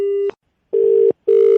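Telephone dial tone heard as three steady beeps separated by short gaps. It is loud and close, like a handset line during a prank phone call, and no one speaks over it.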